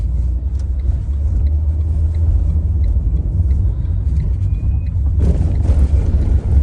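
A Renault Clio IV Intens driving and picking up speed over a cobbled road, heard as a steady, close, low rumble from inside the car that grows rougher and brighter toward the end.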